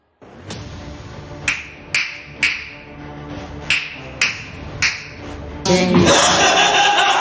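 A self-styled baba in Kolhapur snaps his fingers about eight times in a slow, sharp, close series, and a louder burst of noise follows at the end.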